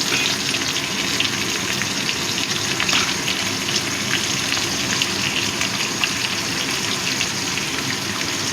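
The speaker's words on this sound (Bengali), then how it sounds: "কুমড়োটাও ভালো মতো ভেজে নেব।" Pumpkin pieces fry in oil in a pan, producing a continuous, close, rain-like sizzle of even loudness throughout, with no voices.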